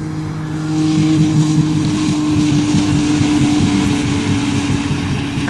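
Two engines, a 1992 Ford Taurus wagon and a 1996 Dodge Caravan racing in reverse, hold a loud, steady high-revving drone at the rev limiter, close and continuous for several seconds.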